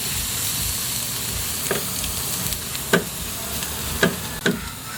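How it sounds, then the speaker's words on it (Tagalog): Crushed garlic browning in a hot pan, a steady, moderately quiet sizzle with occasional clicks and scrapes of stirring. "I-brown lang po natin siya ng medyo yung bawang para lumabas yung lasa niya."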